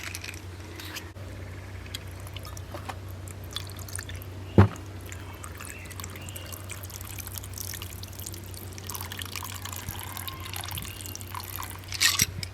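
Lemon juice and gin cocktail poured over the top of a glass, a soft continuous liquid trickle with faint drips under a low steady hum, quiet and close, with a brief louder splash near the end.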